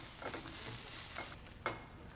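Garlic and vegetables saute quietly in a pan over medium-low heat, a faint steady sizzle broken by a few soft utensil scrapes and one small clack near the end, with no voices.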